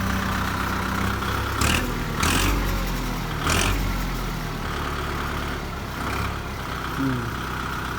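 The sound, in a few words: Kubota MU4902 tractor engine revving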